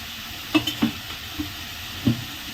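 Chopped onion fries in a little oil in a pan, with a few short spoon clinks and scrapes over a quiet, steady sizzle.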